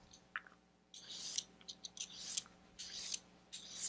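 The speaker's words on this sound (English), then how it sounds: "I like to do it this way with the julienner." A julienne peeler scrapes along a cucumber in quiet bursts, several short crisp strokes cutting it into strips, close and alone without talk.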